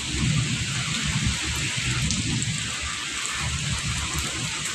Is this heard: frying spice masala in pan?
no